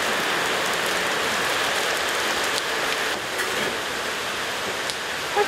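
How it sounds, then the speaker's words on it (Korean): Steady rain pours down in a rural mountain village, a dense, even hiss of drops on surfaces with no voices, heavy and close throughout. "비가 내린다. 정말 시원하게 내리네요."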